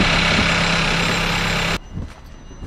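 A 2018-style Audi Q2 with the 1.4 TFSI petrol engine idles loudly with a steady hum, then is switched off and the sound cuts abruptly, leaving faint clicks and garage noise.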